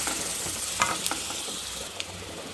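Garlic, cumin and black pepper sautéing in a pan over low heat, a soft continuous sizzle with a few light crackles and stirring scrapes, close and steady with no voices.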